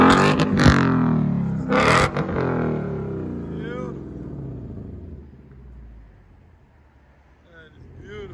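A Ford Mustang Mach 1 V8 engine revs hard through its exhaust with a deep roar. Two loud blips come first, then the rumble settles toward a lower idle. Someone speaks briefly over it.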